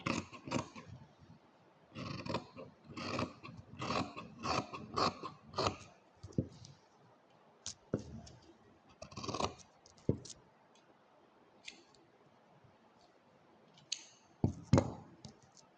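Scissors snipping through blouse fabric while a princess-cut blouse is cut at home, a run of close, crisp clustered cuts and rustles with short pauses between strokes, no talking.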